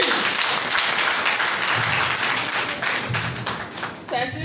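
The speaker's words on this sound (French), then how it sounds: "Applaudissez pour lui." Audience clapping at an International Women's Day event, a sustained burst of dense applause that swells and dips slightly before a brief lull and a final flurry.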